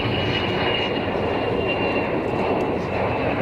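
A Gulfstream G550 business jet makes a heavily derated takeoff at Zurich Kloten Airport, its broad, steady engine roar holding loud and even the whole time with no voices.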